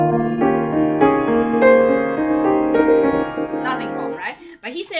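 Solo piano plays a lyrical passage from Liszt's Liebestraum without the crossover chords: sustained notes ringing close and clear, then a voice begins talking at the end.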